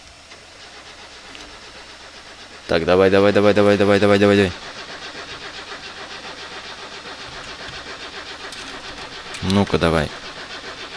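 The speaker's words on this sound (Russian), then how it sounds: "Теперь даем старт двигателю." A van's starter cranks the engine in a long, loud, rhythmic churn of nearly two seconds, then falls quiet; several seconds later a second, shorter burst of cranking follows, with people talking in between.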